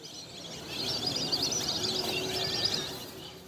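Migratory birds on a green university campus in Noakhali, Bangladesh, in winter, giving a dense, steady wash of high chirping and twittering from a large flock, fairly constant in level throughout with no voices.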